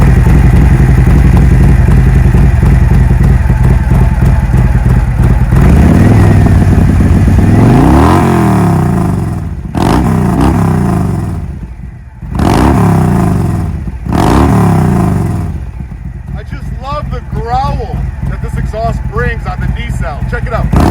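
A Harley-Davidson motorcycle fitted with a D&D exhaust runs loud and close, first a steady deep rumble, then a series of sharp throttle blips with brief drops between them, settling back into a lumpy idle.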